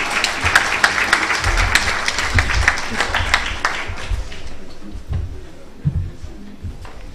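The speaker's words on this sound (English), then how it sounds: "Can you just give yourself a round of applause?" An audience at a library service launch event in Jamaica applauds, a dense burst of many hands that peaks early and then gradually fades out, with a few low thumps underneath.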